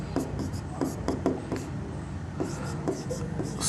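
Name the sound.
teacher writing the answer by hand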